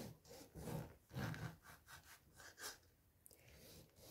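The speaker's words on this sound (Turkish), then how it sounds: "limonumdan şöyle çeyrek limon olacak kadar ince ince dilimleyeceğim" A knife cuts thin slices through a lemon on a board in a row of soft, rhythmic rasping strokes, close and quiet, with no voices.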